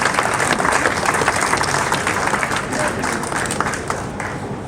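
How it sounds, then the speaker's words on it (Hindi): A crowd at an environmental award ceremony in Meerut claps loudly to welcome an honoree to the stage. The applause is strong and sustained, a dense wash of many hands that eases slightly toward the end. "जोरदार तालियों से इनका स्वागत कीजिए।"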